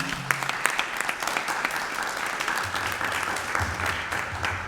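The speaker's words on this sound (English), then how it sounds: "Let's give her a round of applause again" Audience applause fills the hall at a talk on African immigration stories, steady dense clapping from a crowd throughout with no words spoken.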